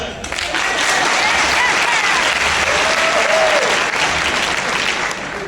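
Loud, sustained applause from a large minstrel show audience, clapping densely for several seconds with some cheering mixed in, then tapering slightly at the end.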